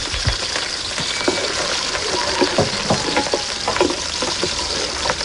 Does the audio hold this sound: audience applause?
no